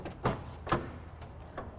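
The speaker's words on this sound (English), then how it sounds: "Do the rear doors open?" A rear door on a Subaru WRX with a Skyline GTR engine swap opens, giving two distinct mechanical clunks followed by a softer third click, close by with no talking.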